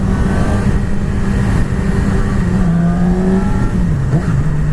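Yamaha R6 motorcycle engine, a 2020 model, running loud and steady throughout, its pitch dipping and rising slightly as the throttle is rolled on and off, without any voices.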